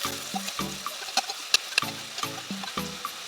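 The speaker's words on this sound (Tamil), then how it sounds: "சேர்த்து வெங்காயத்தை வதக்கலாம்." Onions sizzle and hiss in hot oil in a pan with a little salt, close and continuous, as they are stirred, with a few sharp clinks of a spoon against the pan.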